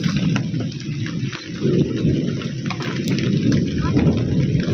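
Heavy monsoon rain falls steadily as a dense, loud wash, with deep rumbles of thunder rolling underneath throughout.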